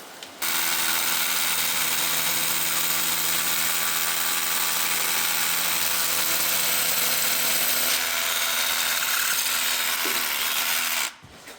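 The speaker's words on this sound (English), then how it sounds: "Alright, so we got our 2 holes drilled." Rotary hammer drill boring holes for concrete anchors in a basement, a loud steady mechanical rattle that runs continuously for about eleven seconds before stopping abruptly, close and alone.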